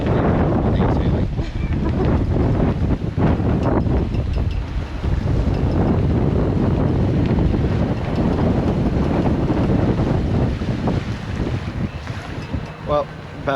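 Heavy wind roars across the microphone while a sailboat crosses a choppy channel on the way back to La Paz, with waves and water splashing continuously throughout.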